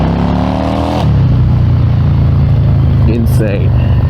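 A 1997 Yamaha XVS650 DragStar bobber engine rumbles steadily while riding through Lucerne, Switzerland, its low, loud drone rising in pitch as the bike pulls away under constant wind noise, with a brief voice near the end.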